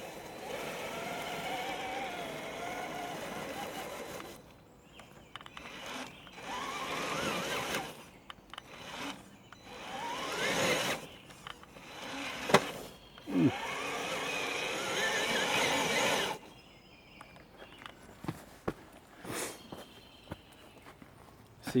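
An Austar AX A6 6x6 RC truck whines and crunches as it struggles for traction on slick rock, its small motor bursting on and off in short spurts with pauses between.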